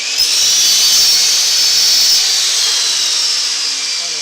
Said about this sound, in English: I do that on my miter saw